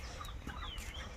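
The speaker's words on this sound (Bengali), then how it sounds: "ওই মুরগি ধরতে নাই মুরগি" A chicken clucks faintly in a brief outdoor moment, a couple of soft, short calls set against low background noise.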